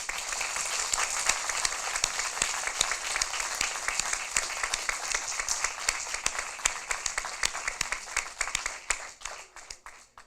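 Audience applause closes the General Assembly of a Model European Parliament regional session in Sassari, Sardinia, with dense, steady clapping that thins into a few scattered claps near the end.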